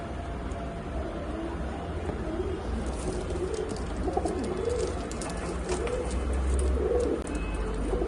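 Home-bred dancing high flyer pigeons, a running pair, coo softly and steadily against a constant low background hum, with light scattered chirps throughout.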